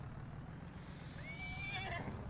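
A horse in Farming Simulator 19 gives a rising, wavering whinny that peaks and trails off, fairly clear over a steady low background hum, with no talk.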